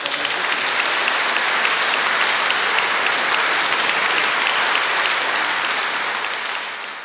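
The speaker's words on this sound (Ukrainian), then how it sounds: "Вот под ваши аплодисменты." A concert hall audience at a philharmonic performance breaks into dense, sustained applause, loud and even throughout before tapering slightly at the end, with no voices over it.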